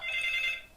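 A telephone rings in a video game session, one steady electronic trill lasting under a second, fairly loud and alone with no talk over it.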